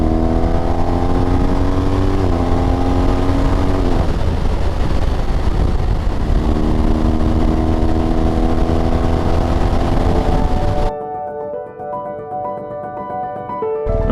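An adventure motorcycle engine drones loud and close on a dirt track, rising and falling through gear changes, then dropping to a quieter idle near the end.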